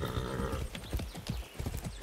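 Rapid video-game hoofbeats of a horse clip-clop across the clip in Far Cry 6, with a brief whinny-like tone at the start over a busy background.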